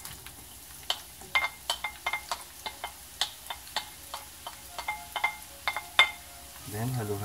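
Onion cooks in hot olive oil in a pan, giving sparse, sharp crackles and pops spaced unevenly over a quiet background, with a voice beginning to speak near the end.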